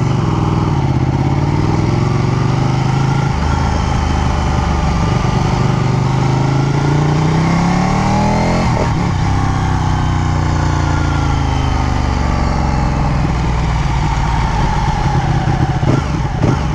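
Ducati Panigale 1299 motorcycle engine running loud and close, holding a steady rough idle with rising and falling revs throughout and no talk over it.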